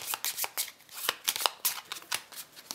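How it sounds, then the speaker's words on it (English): Close, crisp riffle shuffling of a card deck for a tabletop board game: a quick series of papery bursts and flutters with short pauses between them, and no talking. "Players shuffle their decks"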